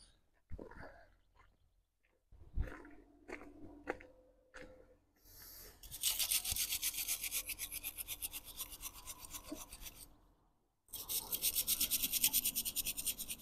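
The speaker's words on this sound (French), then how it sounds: "Je vais donner un petit coup de brosse métallique quand même. Parce que mes poteaux sont bien rouillés." A wire brush scrubs hard against rusty metal posts before welding, starting with a few scattered scrapes and knocks, then breaking into two long, loud, rhythmic stretches of harsh rasping strokes separated by a brief pause.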